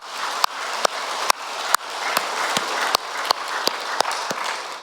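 A church congregation claps through a Sunday worship service, producing dense, sustained applause with sharper individual claps standing out in an irregular rhythm, moderately loud and with no talking.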